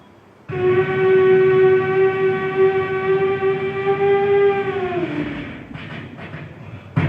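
A performer's voice imitates a train entering, at a Kerala school arts festival mimicry competition: a loud, sustained horn-like whistle holds steady for about five seconds, then slides down in pitch and fades out.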